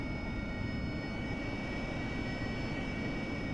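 An AV-8B Harrier jet in the DCS flight simulator roars with a steady, unbroken engine drone that carries a faint high whine and stays constant and loud throughout.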